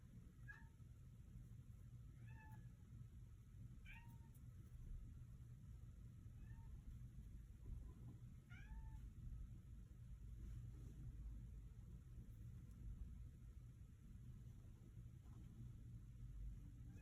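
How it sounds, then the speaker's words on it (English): A kitten gives a series of faint, short meows spaced every second or two over a constant low rumble. "Kitten, what are you doing, baby?"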